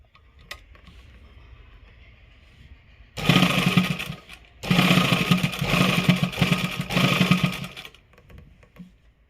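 An electric sewing machine stitches the neckline of a warm winter inner garment, running in two loud sustained bursts with a short pause between, preceded by quiet handling.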